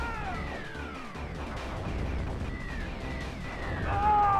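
Rapid arcade gunfire from the Guerrilla War shooter, a dense continuous barrage of shots and bullet effects layered with descending electronic tones, steady and fairly loud throughout.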